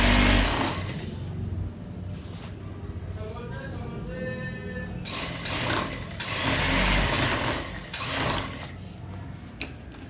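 Sewing machine stitching kurta pajama fabric, a motorized whirring in quick bursts that start and stop, close by, with someone talking over parts of it.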